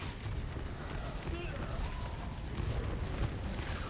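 Rumbling booms and crackling blasts roll continuously under a busy, noisy mix, repeated explosions in the video game Borderlands 3.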